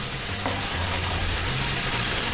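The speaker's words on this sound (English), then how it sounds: "it's going to start instantly thickening up and boiling." Orange cream sauce with honey bubbles and sizzles steadily in a hot pan, a continuous close crackling hiss with a low rumble underneath and no talking.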